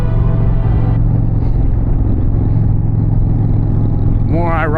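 A 2025 Indian Challenger motorcycle with the Power Plus 108 engine runs steadily under way, a loud continuous low rumble with wind noise throughout and a brief rising rev near the end.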